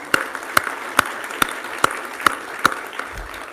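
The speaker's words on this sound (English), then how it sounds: "A round of applause." Sparse, evenly spaced claps, about eight sharp hits roughly half a second apart, from a small audience at a climate mayors summit opening, rising briefly for a former Toronto mayor standing up in the room.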